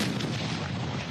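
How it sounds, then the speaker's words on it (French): Artillery shelling Gaza rumbles as a continuous low, dense boom from about ten kilometres away, steady and heavy throughout with no distinct single blasts. "L'artillerie pilonne Gaza."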